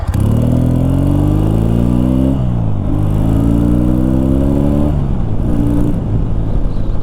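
Barn-find Triumph T140 motorcycle pulling away, loud and close, its engine revving up through several gear changes with rising pitch sweeps and brief drops between shifts.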